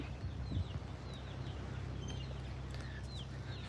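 Chickens cluck and chirp softly in the background over a steady low farmyard hum, with scattered bird calls throughout, on the south shore of Oahu, Hawaii.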